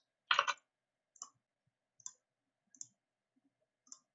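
Sharp computer mouse clicks while editing a Kanban board web page, one louder double click at the start followed by four fainter single clicks spaced about a second apart in a quiet room.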